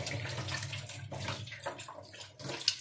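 Running water splashes steadily over a large hilsa fish being washed by hand, with brief louder sloshes and splashes throughout and no talking.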